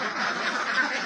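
Ducks on an enclosed duck farm quacking in a dense, continuous chorus, loud and close throughout the brief moment with no pauses.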